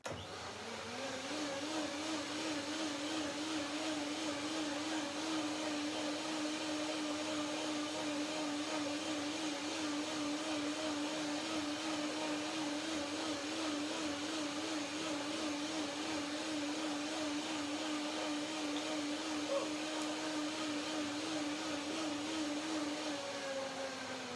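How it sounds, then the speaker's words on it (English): A blender runs steadily and loudly throughout, whirring as it blends frozen cherries and bananas into a cardamom hemp cream, its motor tone holding constant with no talking. "one more blender dance to get the cream to the perfect texture and flavor"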